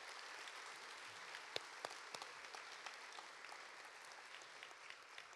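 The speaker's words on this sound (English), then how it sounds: "We need to give a round of applause for all their efforts." Applause from an audience at an academic awards night rolls on steadily, sounding distant and soft, with a few sharper individual claps standing out near the start.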